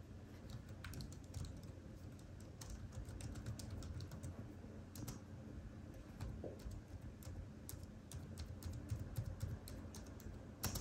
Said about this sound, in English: And now, the keyboard sound.